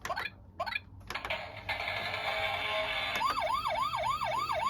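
Toy Paw Patrol fire truck plays its electronic siren loud and close: a few short rising chirps, then a steady high wail sweeping into a fast rhythmic yelp that repeats to the end, with no voices.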